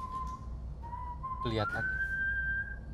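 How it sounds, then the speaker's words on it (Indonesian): A character whistles a steady, sustained tune in the video game Far Cry 5, the tone clear over a low background rumble while someone briefly speaks partway through. "Dia habis berontak kayak gitu ngedengar suara John bersiul langsung berhenti nih."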